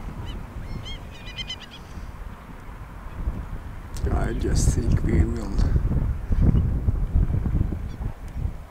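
Steller's eider birds call in soft honking bursts near the start at Varanger, a waterside lodge setting, then fade under closer voices and wind as people speak over the latter half.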